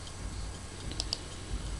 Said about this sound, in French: Il faut appuyer Shift sur le clavier